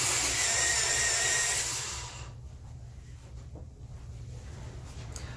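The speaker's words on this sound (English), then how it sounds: "let me sharpen my pencil." A pencil is sharpened up close, a loud grinding rasp for about two seconds that then stops, leaving a quieter steady background.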